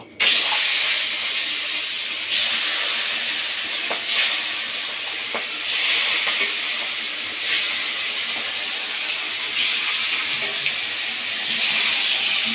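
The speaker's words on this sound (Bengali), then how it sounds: "তেল তো গরম হয়ে গেছে, মাছগুলো ভেজে নিই। সাবধানে দিবেন, একটু ফাটে।" Fish frying in hot oil for a fish curry, a loud steady hiss of spattering oil close by, swelling in repeated surges every couple of seconds.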